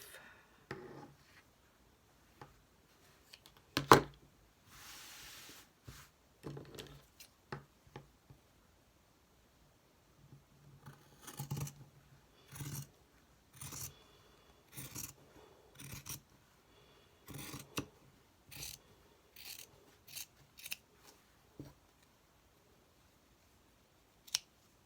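Scissors trim excess material for an art journal page, giving a series of quiet, close snips and clicks spread out with pauses between them.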